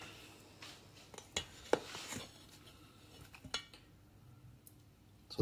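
A pan is handled in a home kitchen while cooking a Christmas dinner for one, with a few sharp metallic clanks and clinks of cookware and utensils scattered over quiet background, close and brief.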